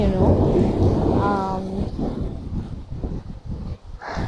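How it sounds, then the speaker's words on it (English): A thunderstorm with rain: a dense, rushing wash of rainfall with a low rolling rumble of thunder that swells early and then settles into a steady patter. "Okay, so thunderstorm, it's raining"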